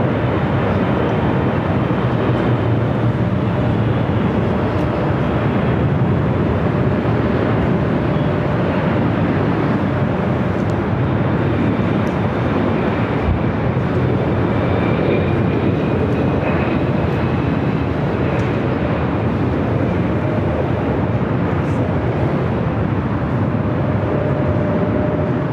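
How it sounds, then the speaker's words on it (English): A United Boeing 777 on short final for runway 24 right at LAX, heard as a steady, loud broadband jet roar that holds continuously throughout with faint tonal whine above it. "United 777, a short funnel for 24 right."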